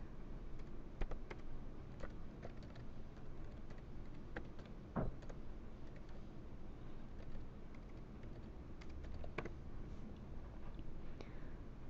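An account name and password are typed on a computer keyboard while setting up digital signage software, with quiet, steady key clicks in an irregular rhythm, close and alone.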